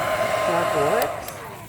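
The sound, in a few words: hair dryer running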